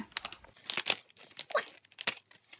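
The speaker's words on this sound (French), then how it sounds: "Je vais ouvrir d'abord celui-ci puisqu'il est devant moi. Donc, est-ce qu'il y a une ouverture facile?" A magazine parcel's packaging being torn open by hand, with short bursts of tearing and crinkling at close range, broken by brief pauses and no speech.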